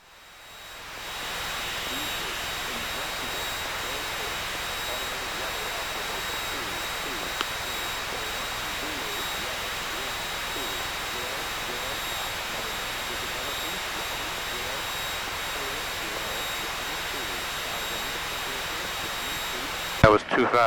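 A Piper Cherokee 180 climbs out after takeoff from Beaufort Executive Airport, its engine a loud, steady cabin drone that stays constant for about twenty seconds and ends with a brief click.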